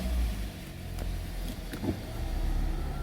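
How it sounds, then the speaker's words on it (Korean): A 2016 Kia K7 (All New K7) 2.4 with its engine running after a start, heard inside the car as a low steady idle rumble with a few faint clicks. "시동 한번 걸어보겠습니다"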